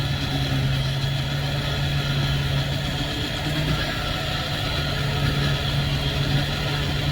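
Rotary tool spinning at about 4,000 to 5,000 RPM while polishing fire agate under light pressure with Diashine polish, a steady close mechanical whine and hum with no pauses or talk.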